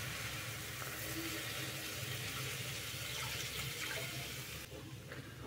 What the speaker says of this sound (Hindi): तो इसमें डाल देंगे फुल क्रीम दूध